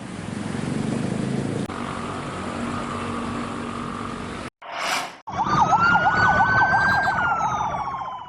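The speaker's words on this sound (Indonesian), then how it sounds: "Iringan 2 ambulans pembawa jasad COVID-19 ini Rabu malam bergerak cepat menuju ke pemakaman di Serayu, Tanah Merah, Samarinda." Sirens wail from two ambulances carrying COVID-19 victims at night, loud and close, a steady tone that breaks off briefly and returns as a rising and falling wail.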